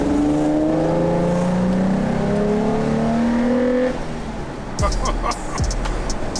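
An Infiniti G35 engine with an Injen cold air intake revs and accelerates, pitch climbing through gears with a loud intake roar, then drops off as the car pulls away, with voices faintly underneath.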